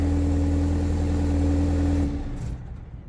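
A 2023 BMW X1 xDrive28i in Cape York Green idles with a steady, close, loud engine hum, then shuts off about two seconds in and leaves a quiet fade.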